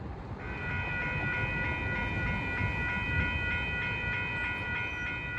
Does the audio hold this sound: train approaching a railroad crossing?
yes